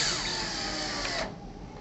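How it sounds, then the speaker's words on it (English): A screw being power-driven into a hinge on a direct-mount shutter gives a steady, close whirring drone that stops abruptly near the end, leaving a quieter background hum. "We can go ahead and install the bottom screw."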